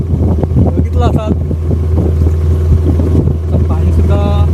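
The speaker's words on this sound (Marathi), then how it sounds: "तर मंडळी आपल्या होडी सुद्धा आपल्या खाडीमध्ये आलेली आहे," A fishing boat's motor arrives in a tidal creek, a steady low engine drone running throughout with wind noise over the microphone and faint background voices.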